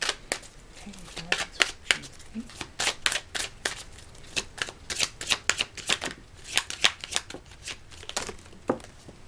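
Astrology cards shuffled by hand, a rapid run of crisp riffling snaps and slaps repeating steadily and close, with brief pauses between bursts.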